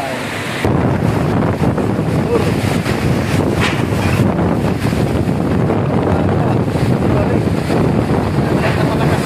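Strong wind roars steadily into the microphone with heavy rain noise, loud and continuous throughout, outdoors in Albay, Philippines.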